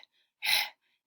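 A voice imitates a lion panting, giving a single breathy, noisy exhalation about a third of a second long with faint breaths around it, no words spoken.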